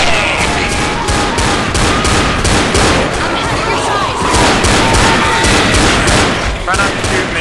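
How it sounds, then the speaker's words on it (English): Dense, loud volleys of gunfire from a zombie video game rattle almost without pause, sharp shots stacking over one another while players talk over the din. "Try not to shoot me, Rav."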